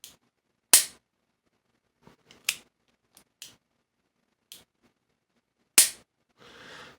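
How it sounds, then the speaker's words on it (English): A Smith & Wesson 686 revolver is dry-fired double action, giving about seven sharp, isolated metallic clicks spaced irregularly, close and crisp against silence, followed by a short softer rustle. "when I pull that trigger, double action, you don't really see the thing wobbling around"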